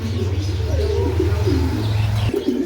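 Pigeons coo in low, rolling throbs close by at a pigeon seller's, with softer chirps and background murmur, the cooing breaking off near the end.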